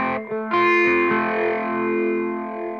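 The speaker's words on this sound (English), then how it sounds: "If I switch to memory green, there is a reverb" Electric guitar played through a BOSS Dual Cube LX amplifier with its reverb effect on, sustained loud chords ringing out with a lingering wash of reverb.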